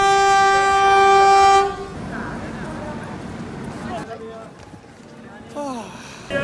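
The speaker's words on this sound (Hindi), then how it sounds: "वो रेल की आवाज भी आ गई" A train at Varanasi railway station opens with a loud, sustained horn blast, followed by rumbling rail and platform noise with voices talking over it.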